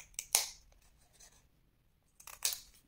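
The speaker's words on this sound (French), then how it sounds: "Donc, vous allez couper ici la partie du bas" Scissors cut paper for a scrapbook advent calendar: two short, crisp snipping bursts, close and fairly quiet, separated by a soft pause.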